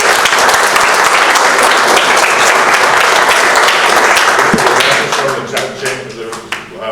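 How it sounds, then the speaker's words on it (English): A meeting audience breaks into a full round of applause, dense steady clapping that fills the room for about five seconds, then thins out and fades as voices come through. "Let's give Jeff a round of applause."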